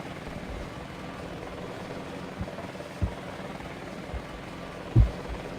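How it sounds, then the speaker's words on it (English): A Huey gunship helicopter from the Vietnam-era shooter game Battlefield Vietnam flies in, a faint, steady rotor drone in the distance, broken by a few soft thuds. "flying in with a Huey gunship"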